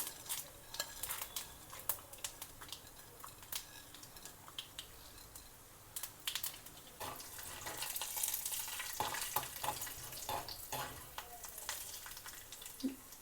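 Mustard seeds, cumin, urad dal and chana dal fry in hot oil for a greens-and-lentil dal tempering, giving a steady sizzle with scattered pops and crackles and occasional utensil clinks, fairly quiet and close.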